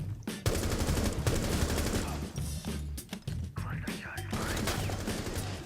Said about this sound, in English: these guys are coming in now because they can hear my gunfire. I've got no suppressor on this.